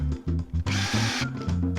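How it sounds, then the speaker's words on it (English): A cheap handheld drill press bores straight holes in wood, its motor whining loudly up close and breaking into a harsh grinding burst as the bit cuts, then settling back to the motor's drone. "using this cheapo handheld drill press, we can bore some straight holes for our pins to go in"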